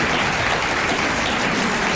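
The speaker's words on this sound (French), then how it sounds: "On l'applaudit tout de suite." A radio show's studio audience bursts into dense, loud, sustained applause for a winning listener, the clapping steady and unbroken with no talk over it.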